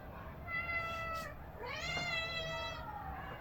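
A cat meows twice indoors, a rising-then-falling call followed by a longer, louder drawn-out meow, fairly close over a quiet background.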